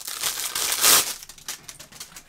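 A cheap little plastic container crinkles and crackles while being handled, giving a series of close, uneven rustles with one louder crunch near the middle, then fading to lighter clicks.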